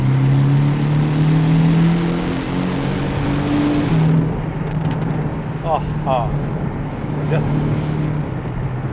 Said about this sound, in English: let's play a little bit with the pedal shifts now into third.